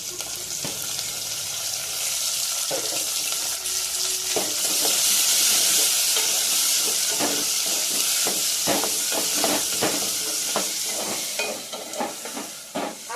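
Pepper rasam base cooking as tomatoes hit frying onions: a steady bright sizzle and hiss swelling louder midway, with scraping stirs of a spoon knocking through it, close and continuous, no voices.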